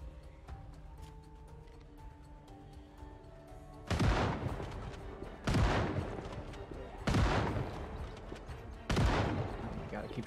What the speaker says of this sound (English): shooting like one of them because the range on this thing is garbage, I guess